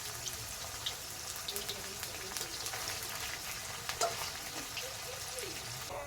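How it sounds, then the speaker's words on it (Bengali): Paneer cubes frying in hot oil in a Bengali home kitchen, giving a steady, moderately loud bubbling sizzle with scattered crackles and pops throughout. "পনির ভাজা আমাদের কমপ্লিট তারা পনিরগুলো ভেজে তুলে নিচ্ছে"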